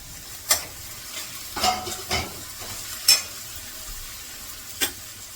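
Tomato fries gently in oil in a pan, a faint steady sizzle broken by a few sharp scraping and clinking stirs, up close and with no talking.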